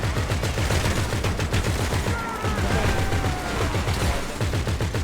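Rapid automatic gunfire fills the scene in GTA V during the Humane Raid Insurgents mission, with dense, sustained bursts of shots and loud blasts, close and continuous, with brief whistling sounds partway through.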